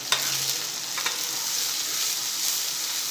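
Chopped tomatoes hit golden fried onions in a pan for Chinese veg fried rice, giving a close, constant sizzle with a few scraping stir strokes early on.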